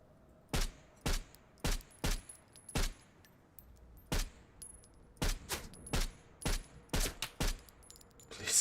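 Video game gunfire in a winter-mode permadeath match: about fifteen sharp, loud shots, some single and some in quick pairs, cracking out at an uneven rhythm over a quiet background with no voices.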